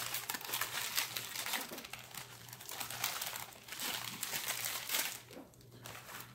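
Paper towel crinkling and rustling as it is wrapped around a King Oscar sardine tin in tomato sauce, a steady close crackle with brief pauses and a low hum underneath.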